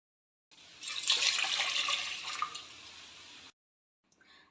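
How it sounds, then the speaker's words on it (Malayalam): About one and a half cups of milk pours steadily into a bowl to make buttermilk for broasted chicken, a close, continuous splashing stream lasting around three seconds, then a brief faint splash. "ആദ്യം തന്നെ കുറച്ച് പാലൊഴിക്കാം"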